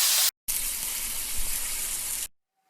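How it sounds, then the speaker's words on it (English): Frozen bacon fries in a pan with a loud, even sizzle and hiss, broken by brief abrupt cuts. "And we're going to fry up our bacon."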